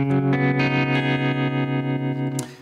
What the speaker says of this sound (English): This is set a little fast. It's the MXR tremolo.